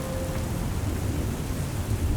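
Heavy rain pours steadily during a summer thunderstorm at Chobe National Park, a dense continuous hiss with a deep low rumble underneath, loud and unbroken with no voices.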